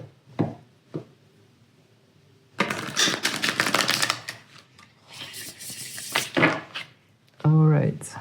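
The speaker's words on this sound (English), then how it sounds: "So just bear with me until I reshuffle my deck." A tarot card deck being reshuffled, with dense papery riffling and snapping bursts in two long runs between brief quieter gaps, close and fairly loud, and a voice speaking briefly at the end.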